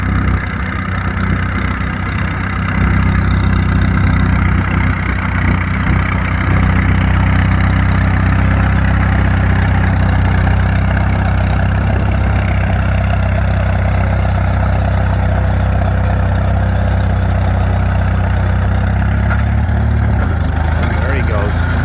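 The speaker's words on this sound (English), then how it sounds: "We'll listen to the tractor." An antique tractor engine runs at a plow day, giving off a steady, close, heavy low rumble that carries on throughout while people talk over it.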